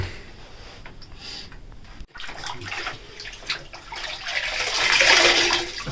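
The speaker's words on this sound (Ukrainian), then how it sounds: "Тепленькою водичкою трошки обмиємо." Warm water is poured and splashes while washing a cow after retained placenta, a running, sloshing stream that grows louder toward the end, close by, without talk.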